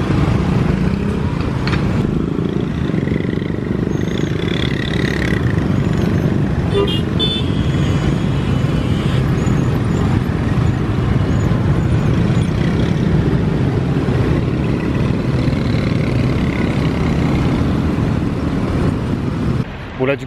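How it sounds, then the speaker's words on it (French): Scooter ride through dense Jakarta street traffic, with a steady loud road roar of engines and passing cars, occasional horn toots, and voices talking over the traffic throughout. "C'était ouf franchement de faire du scooter ici, mais c'est des grands malades, vous avez vu ça, genre comme ça slalom entre les voitures et tout."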